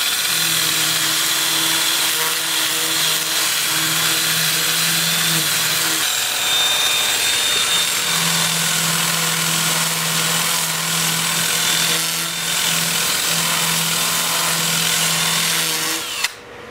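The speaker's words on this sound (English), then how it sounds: "so I'll have the lathe spinning in reverse at about 400 RPM to sand these" Wood bowl being sanded on a lathe spinning in reverse at about 400 RPM: a loud, steady motor hum with a rough, hissing abrasive scrape that shifts slightly in pitch, continuous for over fifteen seconds.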